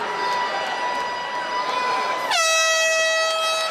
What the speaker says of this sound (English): The horn sounds.